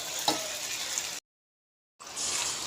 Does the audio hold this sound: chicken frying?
yes